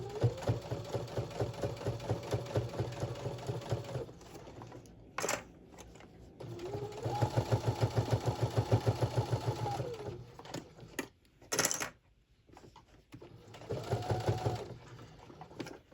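A sewing machine stitching binding onto a Christmas mug rug, running in steady buzzing bursts with a rhythmic needle chatter, close and clear, pausing briefly between runs.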